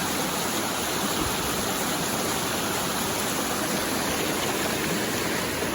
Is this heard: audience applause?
no